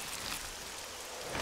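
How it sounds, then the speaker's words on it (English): Steady rain falls in the survival game 7 Days to Die, a constant soft hiss of drops on surfaces with no distinct events, faint and even throughout. "And of course it's raining."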